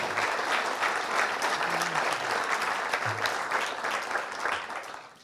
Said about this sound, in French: on peut encore applaudir